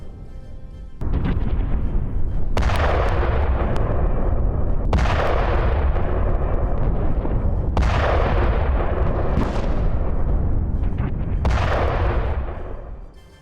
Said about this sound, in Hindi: हिजबुल्लाह के ठिकानों पर इजराइल की ओर से एयर स्ट्राइक की गई।